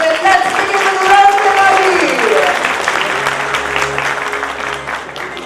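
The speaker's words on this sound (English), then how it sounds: "a bigger round of applause for our speakers once again" Audience at a business conference panel applauds the speakers, a moderate wash of clapping that carries under a voice talking and some tonal sound from the room, gradually thinning out.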